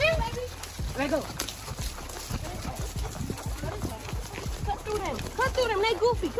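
Horses walking on a trail ride, hooves clip-clopping at an uneven pace beneath frequent overlapping talk and exclamations from several riders nearby.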